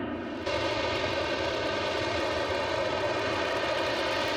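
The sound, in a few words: F-35 fighter jet flying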